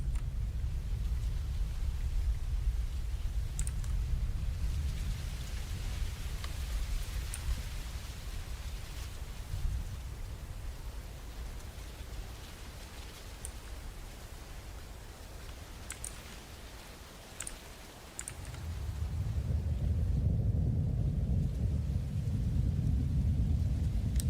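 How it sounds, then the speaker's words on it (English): Steady rain with deep rolling thunder throughout, played back from a video. It is fairly faint and continuous, and the low rumble swells again near the end, with no talking. "it's really nice to just relax to the sounds of rain"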